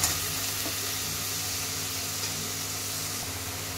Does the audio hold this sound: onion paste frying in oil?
yes